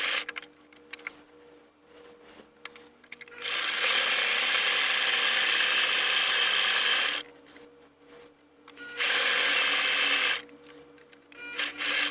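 A sewing machine stitching in reverse runs in two long steady bursts of rapid, buzzing motor whir, with quieter handling and pauses between.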